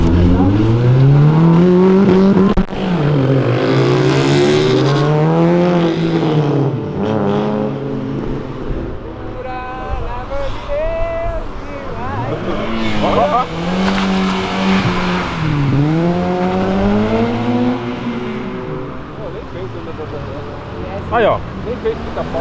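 Car engines, including a Nissan, rev up and down repeatedly, rising and falling as vehicles pass nearby, loud and continuous with a squeal or two and people talking over them.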